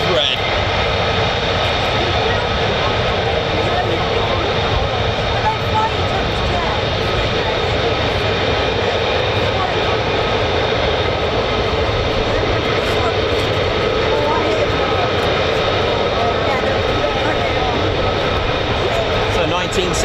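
An F-15 fighter jet roars overhead at RAF Lakenheath, a constant, broad, loud engine rush that holds steady throughout, with a voice talking over the noise.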